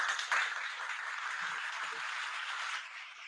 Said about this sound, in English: Huge round of applause for Devansh.